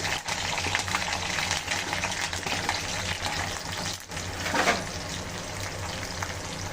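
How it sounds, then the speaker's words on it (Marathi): Onions, curry leaves and chilli frying in a pan, giving a steady, even sizzle that runs throughout with a slight swell near the end. "आता भाजून झाला होता कांदा."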